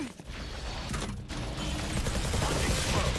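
Gunfire in the tactical shooter Valorant, aimed at a turret on top of a container: a rapid rattling spray of shots with mechanical clicks, steady and loud over a few seconds.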